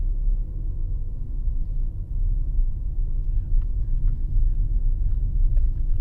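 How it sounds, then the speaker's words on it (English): A truck towing a trailer pulls in at an RV resort in Clermont, Florida, making a steady low engine rumble close by, with faint light clicks and rattles over the drone. "there's a truck that just pulled in with his trailer"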